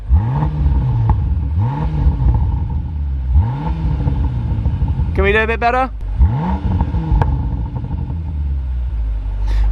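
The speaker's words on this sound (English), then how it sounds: "And the exhaust gets a little bit louder. Go on, give us some revs." A 626bhp Land Rover Defender Octa revs repeatedly in a rising and falling rhythm, its loud exhaust booming up close while a voice briefly talks between blips.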